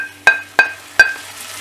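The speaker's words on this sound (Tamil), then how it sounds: "இப்போ தக்காளி போட்டு நல்லா வதக்கிடலாம்." Tomatoes and onions sauté in a pan for Kerala-style meen pollichathu, with three sharp metallic utensil clinks against the pan over a faint, steady sizzle, close and loud.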